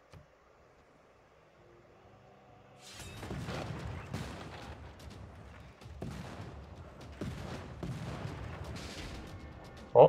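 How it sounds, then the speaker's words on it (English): Field cannon fire and battle noise in a Civilization strategy game, a sustained rumbling barrage of booms and blasts over several seconds, ending in one sharp loud hit. "Oh, there goes that field cannon."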